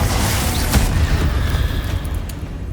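A Confringo blasting spell explodes in Hogwarts Legacy with a loud, sustained rumbling boom that rolls and fades over a couple of seconds, with no voices.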